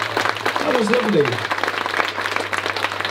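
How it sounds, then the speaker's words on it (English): Audience applause in a theatre after a live song, the clapping steady beneath a sung or spoken voice and a low sustained instrumental tone, a voice sliding through the middle. "Give yourselves a big round of applause."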